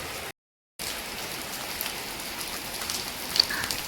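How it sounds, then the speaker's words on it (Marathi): Continuous hiss of heavy rain falling on surfaces, steady and fairly soft, broken by a brief silent gap near the start. "त्याचा जोरदार पाऊस चालू झालेला आहे"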